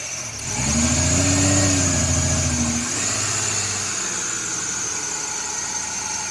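A Ford Mustang engine, worked by hand at the throttle body, rises in a loud rev with a squealing whine, then settles back to a steady idle with a high hiss over it.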